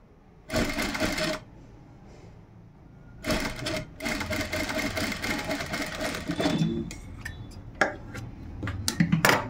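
A sewing machine stitching double-cup blouse pieces and tucks runs in one short burst, pauses, then runs a longer stretch, with close, steady mechanical whirring and scattered clicks and taps near the end.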